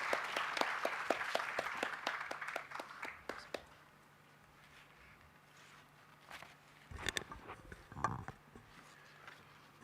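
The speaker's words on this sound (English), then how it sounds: "I would request all the participants to please welcome him with a huge round of applause." Audience applause welcomes a speaker onto the stage at an inaugural ceremony for the Dalai Lama's 90th birth anniversary, a burst of clapping that fades out within a few seconds, followed by quiet room sound and a few scattered knocks.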